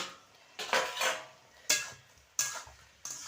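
Metal plate lid lifted from a cooking pot of simmering stalks in a village kitchen, giving several sharp clanks and scrapes of metal on metal, close and clear with short pauses between.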